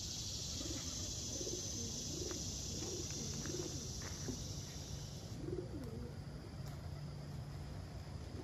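Birmingham Roller pigeons coo near a loft, a series of soft, rhythmic coos repeated several times over a steady background hiss, with a faint chirp or two and no talk.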